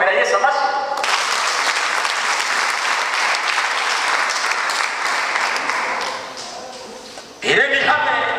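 A church congregation at a ceremony installing ministers at Elayon Mountain Church gives a long, loud, sustained round of applause, with a preacher speaking just before and just after.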